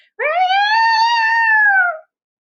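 A violin bow drags across the strings in one loud, rising and falling wail, close and alone for about two seconds, mimicking a yowling cat.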